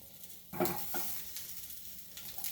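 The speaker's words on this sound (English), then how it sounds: "we are going to fry in this without oil" Salted pork fries in a dry pan without oil, giving a quiet crackling sizzle with a sharp burst of stirring and scraping near the start, then a softer steady crackle.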